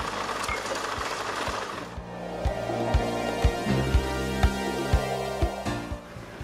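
An embossing printing press runs with a low mechanical hum, then settles into a steady rhythmic series of heavy thumps roughly every half second as it takes a print onto the packing, close and with no talk.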